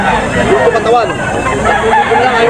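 A young stag gamecock crows in repeated rising and falling calls amid a crowd's background chatter at a gamefowl sale.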